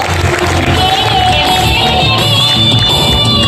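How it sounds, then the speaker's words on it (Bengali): Big, dense crowd sound in a packed auditorium at a celebration program in Dhaka, with applause and cheering running loud and unbroken throughout, plus a few voices shouting within it. "জোরদার করতালি দেব বন্ধুরা"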